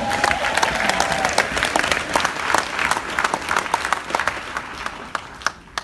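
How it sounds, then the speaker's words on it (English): Audience at a motivational speech in Jamaica applauding, sustained crisp clapping with sharp individual claps standing out over a crowd wash, fairly distant and steady, with a few cheers mixed in. "Give yourselves another round of applause."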